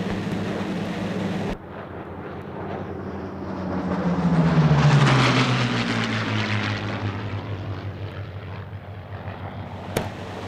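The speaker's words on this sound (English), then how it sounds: "Now here come the Spitfires." Supermarine Spitfire propeller aircraft fly past at an airshow, the engine drone swelling as they approach and falling in pitch as they pass and recede.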